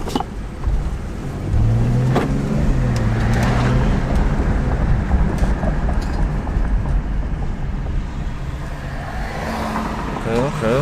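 A Dodge Charger, just returned from repair, being driven and heard from inside the cabin, with a steady engine and road drone and a brief rising engine tone early on.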